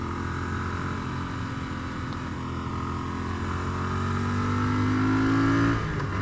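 A Royal Enfield Interceptor 650 motorcycle engine drones steadily while riding up the Seebergsattel pass toward the Slovenian border. Its pitch climbs gradually near the end, then drops away sharply, with loud, continuous wind rush throughout.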